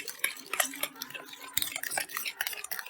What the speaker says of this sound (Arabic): انا ما عنديش مضرب فهعمل بالشوكه بقى خلاص.